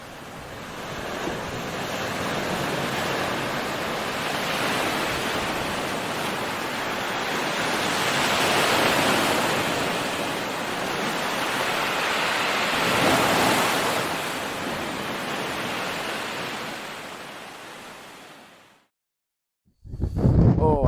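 Ocean waves breaking on the shore at sunset in strong wind, a continuous loud roar of surf swelling in long surges, buffeted by wind noise on the microphone, ending abruptly in a brief silence.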